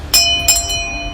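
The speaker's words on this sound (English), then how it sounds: "ring that notification bell so you'll know when the next episode is up and running" A bright notification bell chimes twice in close succession with a third softer strike, the ringing tones sustaining clearly and loudly with no voice over them.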